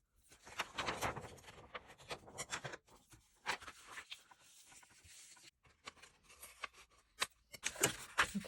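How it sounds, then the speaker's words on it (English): Scissors snip through vellum paper to shape a seed packet, with faint, close, irregular crisp cuts and rustles separated by short quiet gaps. "quickly cut that and see if I can make a seed packet out of that"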